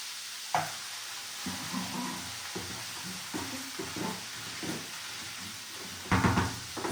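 Chickpea curry with medium curry powder sizzling in a pan as a spoon stirs and scrapes, steady frying hiss with irregular clinks and scrapes, a sharper knock near the end.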